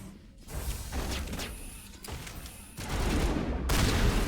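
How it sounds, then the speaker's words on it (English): Shotgun blasts in Mass Effect Legendary Edition: a few heavy, close shots with mechanical clatter between them, loud and dense in a combat mix, with no voices. "That's a shotgun."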